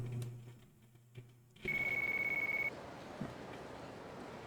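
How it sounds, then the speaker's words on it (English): A phone in the Yakuza 4 video game rings with a steady electronic tone for about a second, loud and close after a quiet stretch, then fades into low background ambience. "Our phone."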